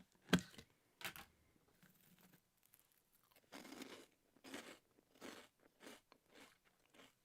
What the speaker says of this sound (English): I'm gonna mute me because I hate the sound of crunching